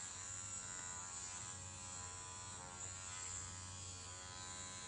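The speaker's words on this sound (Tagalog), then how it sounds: "Para siyang shaver ang ingay." A small handheld electric face massager buzzes steadily up close, a continuous motor drone with no pauses.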